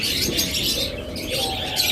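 Pet birds such as lovebirds, budgerigars and cockatiels chirp and tweet in a steady, busy chorus, with soft cooing and faint wing flutters mixed in, close and continuous.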